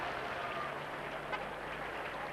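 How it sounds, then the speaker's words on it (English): British supporters cheering and applauding at a 1981 World Championships rowing medal ceremony: a steady, distant wash of crowd clapping and cheers, broad and even throughout, heard through an old broadcast with a faint hum beneath. "A big cheer from the British contingent"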